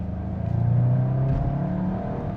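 A Volkswagen Golf GTI Clubsport's engine pulls steadily under acceleration on an open road, a close, sustained hum with a rising tone heard from inside the car.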